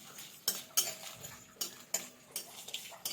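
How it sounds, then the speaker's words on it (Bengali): Dry chillies and cardamom being lightly fried in a pan, heard as a run of sharp clinks and scrapes of a utensil against the pan, about eight distinct knocks in an irregular rhythm over a faint background, close and fairly quiet. "এটা হালকা ভেজে নেবো।"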